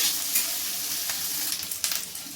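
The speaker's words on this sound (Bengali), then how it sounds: "আমি পেঁয়াজ আর ক্যাপসিকামটা ভালো করে ভেজে নেব লাল করে।" Onion and capsicum frying in a pan until reddened, a continuous close sizzle with a few sharp crackles and spatters toward the end, no talking.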